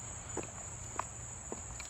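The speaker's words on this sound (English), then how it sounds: "More crickets." Crickets keep up a faint, steady high-pitched chirping trill in the background, with a few soft tapping sounds scattered over it.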